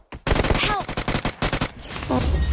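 Rapid automatic gunfire in PUBG Mobile, close and loud bursts in quick succession with brief gaps, a voice heard faintly among the shots.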